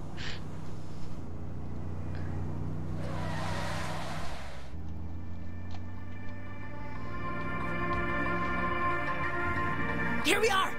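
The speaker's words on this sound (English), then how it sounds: "And I know how to Tokyo Drift" Car drifting and skidding in Saints Row 3: engine tones rise and shift gears, one burst of tire hiss partway through, and a sharp squeal near the end, with steady motor drone throughout.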